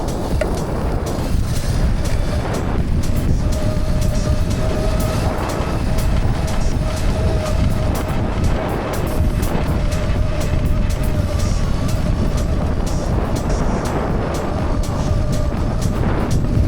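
A Mototec 60V Pro electric bike rides through soft sugar sand, giving a steady, loud rumble of tire churn and wind with a faint whine running throughout, with no pauses.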